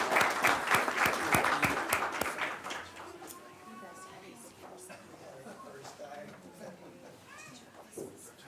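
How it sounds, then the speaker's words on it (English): At a school board meeting, a round of applause for students rings out briskly for about three seconds, then dies away into murmuring voices and scattered room noise. "Let's give them one more round of applause."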